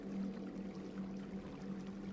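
Water gathered in the game Creativerse makes a steady, low pouring and gurgling stream that runs evenly and moderately loud for about two seconds, with no voices.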